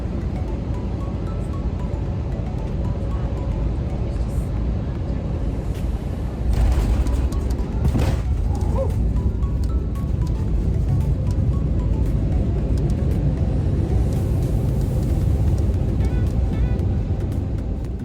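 A Spirit Airlines airliner lands at Fort Lauderdale, heard from inside the cabin as a steady loud engine and airflow roar, with a brief jolt and rumble partway through.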